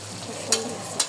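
Green vegetables and potatoes fry in a pan as they are stirred, a soft continuous sizzle broken by two brief scraping strokes of the spoon about half a second apart.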